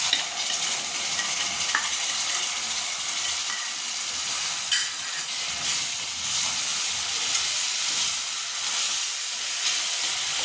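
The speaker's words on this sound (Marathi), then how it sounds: "आता हे मी या तेलात घालून घेते आहे." Ginger-garlic paste sizzles and fries in hot oil in a home kitchen, a steady bright hiss with faint stirring scrapes, close and continuous with no talking.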